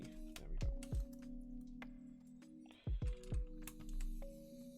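Keystrokes on a rushed J-01 custom mechanical keyboard build with long-idle stabilized keys, a handful of distinct clacks in two short bursts over a steady low background hum.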